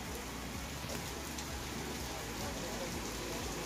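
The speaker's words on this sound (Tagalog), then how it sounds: "Napakalakas ng ulan." Heavy rain pours down in a dense, even hiss of drops hitting surfaces, steady and fairly faint throughout with no break.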